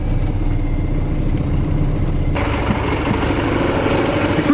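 A heavy truck idles in a field with a steady, deep, rumbling engine note, its tone shifting partway through as the clutch engages, loud and close throughout.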